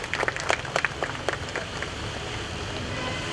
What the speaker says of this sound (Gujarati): એકવાર ફરીથી જોરદાર તાળીઓ થઈ જાય સતીશભાઈ